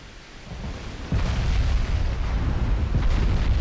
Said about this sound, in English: Oh, some torpedoes coming in,